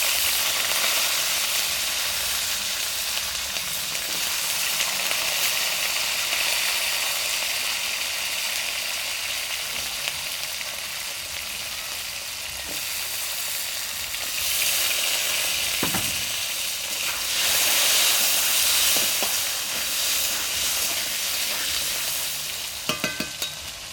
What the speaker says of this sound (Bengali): এবার দিয়ে দিব আলু। আলুটা আগে ভেজে নিব।